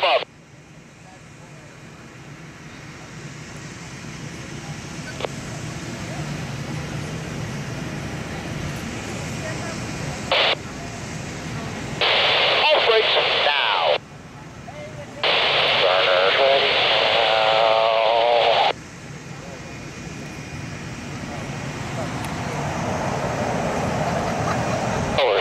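Blue Angels jet engines run up during a practice session at Pensacola. A steady engine roar builds gradually, with brief louder radio chatter breaking in over it.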